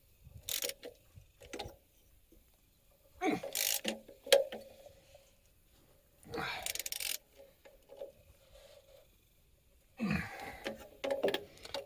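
A ratchet with a swivel wiggler extension works on a Case 580B tractor during a fan belt replacement, giving short bursts of clicking spread across the stretch with quiet gaps in between.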